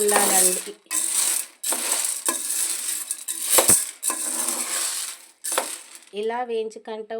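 Roasting laddu ingredients being stirred in a pan, with bursts of scraping and rattling that come in repeated strokes, fairly close and loud, separated by short pauses.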